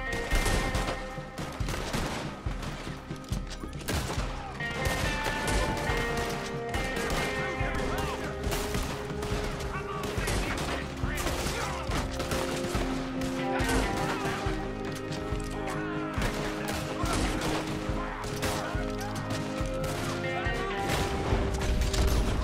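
Gunfire in Red Dead Redemption 2: scattered single shots and short bursts crack over a busy game soundscape with music, the reports spaced irregularly and fairly close.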